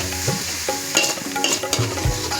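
Okra cooking down in a pan for okra thokku, a steady broadband sizzle with repeated scraping and clinking as it is stirred, close and fairly loud with no voices.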